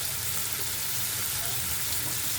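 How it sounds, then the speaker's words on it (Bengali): Salt, turmeric, chili and coriander powder fry in a pan with a splash of water, making a loud, continuous close-up sizzle and hiss without a break. "এখন ভালোভাবে কষিয়ে নিতে হবে। সামান্য জল দিয়ে কষাতে হবে যাতে মশলাটা পুড়ে না যায়।"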